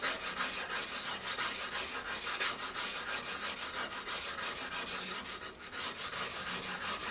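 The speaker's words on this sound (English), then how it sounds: "begin to rub. And you can go side to side, make sure you're getting the whole blade on a skinny stone." A plane iron blade is rubbed side to side on a narrow sharpening stone, making a steady rhythmic rasping scrape with repeated strokes, close up and with no talking.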